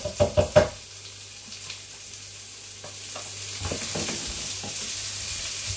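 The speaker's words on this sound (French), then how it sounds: "je grille les oignons" Onions fry in hot oil for chicken wings with potatoes, a few sharp knocks at the start giving way to a continuous crackling sizzle that grows a little louder, with faint clatter of handling.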